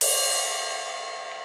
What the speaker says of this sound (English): so this is the ride cymbal, and it has a lighter sounding